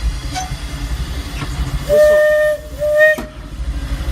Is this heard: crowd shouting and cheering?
no